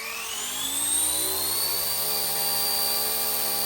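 Motors of a K170 Black Hawk RC helicopter spinning up after being unlocked, a steady high whine rising in pitch over the first second and then holding loud and constant.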